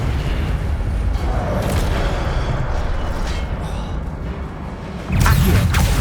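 Incendio fire spell bursting in Hogwarts Legacy, a dense, continuous roar of flame and rumble that swells again at the end, loud and steady.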